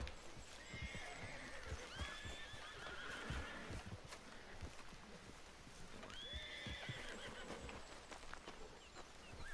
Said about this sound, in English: meu cavalo tá bem nervoso ali. Vou tentar dar uma acalmada nele